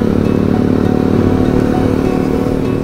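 A Motorstar Easyride 150 motorcycle engine drones steadily and loudly at close range while riding, a constant rough hum with slight clatter and no voices.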